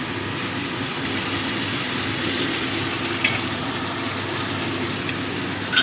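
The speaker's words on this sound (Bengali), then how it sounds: "দিয়ে দিচ্ছি একটু গরম জল।" Hot water poured into a pan of simmering chhana curry sets off a loud, continuous hissing sizzle that holds evenly throughout, with a couple of faint clicks near the end.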